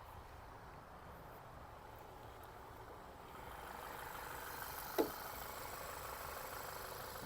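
A quiet, steady Volkswagen Passat B7 engine idle rumbles on with no variation, and a single brief click sounds partway through.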